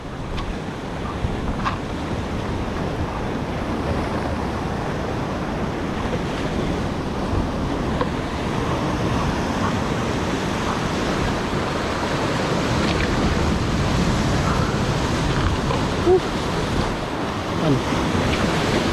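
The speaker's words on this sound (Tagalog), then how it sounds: "Parang malalaki yung alon, no?" Large ocean waves roll in on a shore while someone fishes with a light lure, a continuous loud wash of surf mixed with wind rumbling on the microphone, no distinct individual crashes.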